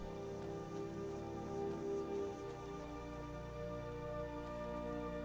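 Rain falls in the Skyrim video game with a soft, steady patter. It stays faint throughout and is layered over sustained ambient tones from the game.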